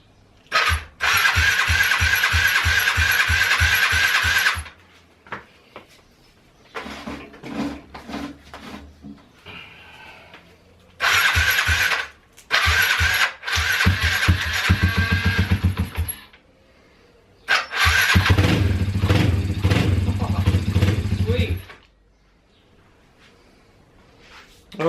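Yamaha TTR50 supermoto small motorcycle engine cranking and firing in several bursts, revving loudly for a few seconds each time before cutting out, with quiet gaps and clunks between attempts.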